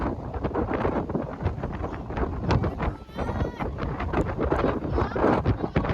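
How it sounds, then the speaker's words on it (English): Strong, constant wind buffets the microphone on the coast at Quy Nhơn, a dense roaring rush with gusty fluctuations that stays loud throughout. "Living up to its name, the wind here comes in strong ways, raw, constant, and impossible to ignore."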